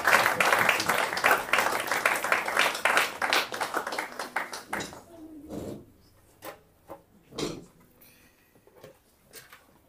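Church congregation applauding in worship, dense enthusiastic clapping for about five seconds that fades into scattered claps and a few louder slaps, heard in a reverberant hall.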